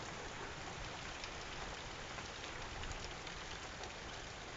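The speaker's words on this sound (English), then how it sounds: "And it's raining harder now." Heavy summer monsoon rain pours down in a dense, even hiss of drops on surfaces, steady and unbroken throughout, fairly faint and with no voices over it.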